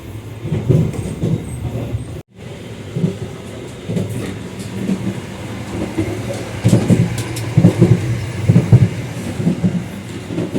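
Jayabaya New Generation passenger train rolling on rails, a loud steady rumble with rhythmic clatter from the wheels, heard from inside a carriage, with a brief dropout early on.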